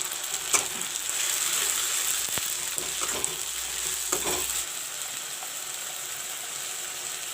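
Onions and ginger garlic paste frying in a pan, a steady close sizzle with occasional scraping and clinking from stirring, louder in the first few seconds, then settling into a quieter continuous hiss.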